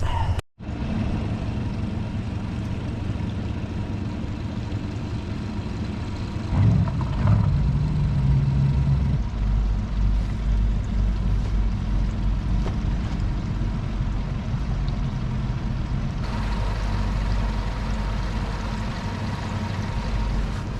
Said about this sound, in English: It's always nice when both the engines start.